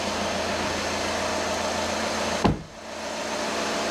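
A 2014 VW Passat 2.0 TDI diesel idles right after an oil and filter change, a steady close engine drone with one brief knock or bump midway, no voices.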